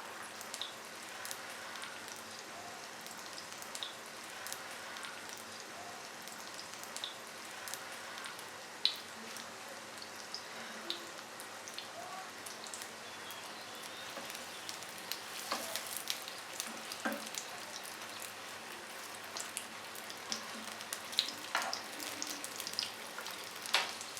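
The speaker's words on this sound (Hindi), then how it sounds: "अब इसमें क्रेप्स को फ्राई करेंगे और ये वाली जो टर्न वाली साइड है ये हम पहले पैन में डालेंगे। हल्की आंच पे इनको फ्राई करेंगे।" Crepes frying in a pan over low heat, a soft steady sizzle with scattered small pops and crackles throughout, fairly quiet and close, no voices.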